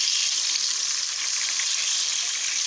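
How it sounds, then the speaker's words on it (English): Cinnamon rolls deep-fry in hot oil, six at a time in a pot, giving a loud, steady, dense sizzle that holds unbroken throughout with no talking. "And just let them fry up."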